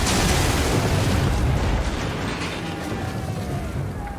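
Ship cannons firing in an Assassin's Creed naval battle, heard as a dense, continuous rumble of heavy booms and blasts that stays loud throughout, with no talking.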